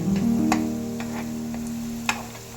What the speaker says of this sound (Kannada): ಇದೆ ಶೇಂಗಾ ಪುಟಾಣಿ ಎಲ್ಲ ಈರುಳ್ಳಿ ಜೊತೆ ಚೆನ್ನಾಗಿ ಫ್ರೈ ಮಾಡ್ಕೋಬೇಕು